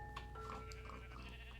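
A Minecraft sheep bleats a couple of times, faint and wavering, over a steady low background drone.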